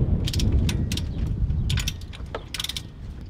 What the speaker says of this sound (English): we need to torque these down